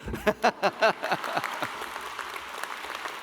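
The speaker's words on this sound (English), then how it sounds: "I hoped you might applaud that." Graduation ceremony audience applauds after a speech, a few loud separate claps at first swelling into steady, fainter clapping across a large hall.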